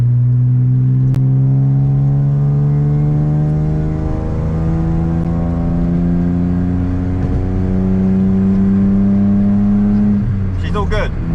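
A BMW E30 engine drones steadily while driving, its pitch climbing and falling through revs and gear changes, loud and close throughout, with a brief clatter near the end.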